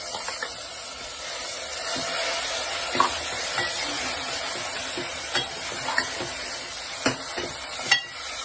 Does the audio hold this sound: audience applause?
no